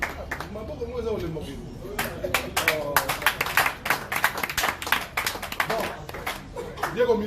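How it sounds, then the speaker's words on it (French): Clapping and applause for footballer Diego Milito at a press conference, scattered sharp claps that thicken into a lively patter over a background of talk and murmuring. "il mérite aussi des acclamations"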